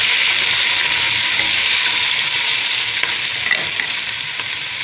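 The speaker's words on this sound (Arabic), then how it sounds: "بعد ما قلينا الدجاج تاعنا، هنا ولينا لكم نضيفوا له البصل" Chicken pieces and onions fry in a hot pan for a harira meal, a steady, loud sizzle holding evenly throughout with faint stirring crackles and no voices.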